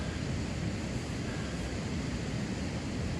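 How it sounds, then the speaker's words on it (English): A waterfall on the Sturgeon River in Temagami roars steadily in the background, a constant broad wash of noise, fairly distant and even throughout. "you can hear it behind me, there's the falls"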